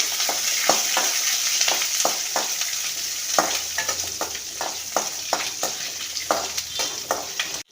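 Ginger, garlic and onion sauté in a hot pan for onion chutney, a loud continuous sizzle broken by regular scraping strokes of a spatula, close and alone without any voices.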